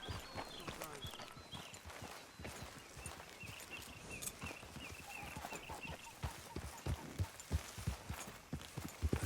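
Steady clip-clop of horse hooves walking at an even pace in Red Dead Redemption 2, close and continuous, with light ambient noise underneath.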